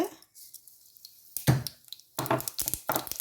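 Mustard seeds crackle and spit in hot oil in a pan, heard as irregular sharp pops in quick clusters close by, with brief pauses between them.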